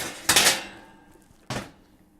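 Metal baking sheet pushed into a home oven, two sharp clattering knocks about a second apart with fading metallic ring, close and alone without talk.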